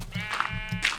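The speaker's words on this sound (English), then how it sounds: "Stupid sheep." Sheep in the Minecraft video game bleat twice in quick succession, close and fairly loud, with no talk over them.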